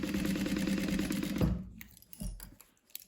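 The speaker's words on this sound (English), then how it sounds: "sewing at a 1/2 inch" A sewing machine running steadily on thin cotton fabric at a half-inch seam, a fast even whir for about a second and a half, then stopping, followed by a few soft clicks and handling taps.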